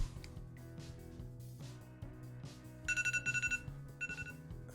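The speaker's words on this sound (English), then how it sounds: "There's a timer." A timer rings in bright, rapid bursts partway through, then sounds again more briefly. Low, steady indoor background noise runs underneath.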